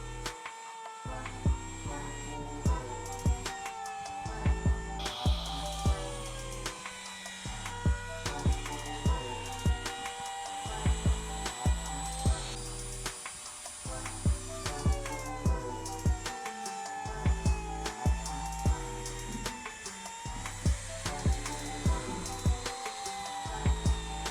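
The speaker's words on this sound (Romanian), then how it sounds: "mă ocup deja de rotunjirea muchiilor cu freza mică de mână" A hand router rounding the edges of a walnut tabletop whines continuously at high speed, biting into the wood with rhythmic bursts and dips as it works along, loud and close throughout.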